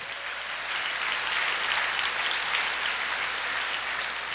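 A church congregation applauds together in a dense, steady wash of clapping that holds at an even level for several seconds, with no voices over it.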